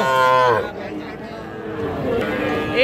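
A calf lets out a drawn-out moo, then another begins at the end, with people chattering in the background between the calls at a cattle market.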